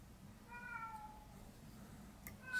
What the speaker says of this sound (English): Seems that my cat is hungry or just lacks attention.